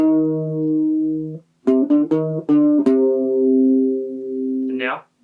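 Guitar plays the opening of a riff: long ringing notes, then a quick run of plucked notes, then another sustained note that ends with a short scrape. No voice is heard.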